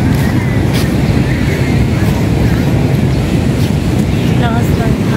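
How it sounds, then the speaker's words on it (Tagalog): Strong surf crashes continuously at Tundaligan Beach, a loud, steady roar of breaking waves with wind buffeting the microphone throughout. "Lakas ng alon."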